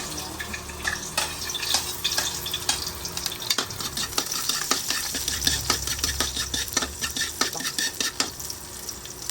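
Garlic frying in a pan for pininyahang manok, a soft continuous sizzle broken by the scrape and clink of a spatula stirring, close but fairly quiet, with no speech.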